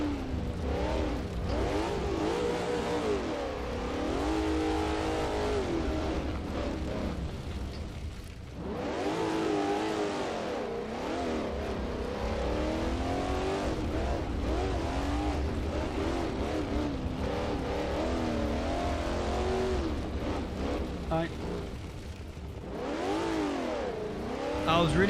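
A rally car in the Assetto Corsa racing game, driven on gravel at the Nurburgring, revs loudly and throatily through repeated rising and falling engine sweeps, with a brief dip in the middle before climbing again, no talking.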